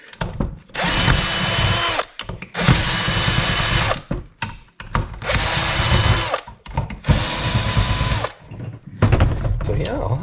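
Power drill backing screws out of a car amplifier being scrapped, four long loud whirring bursts separated by short pauses, with faint handling noises and some talk in between.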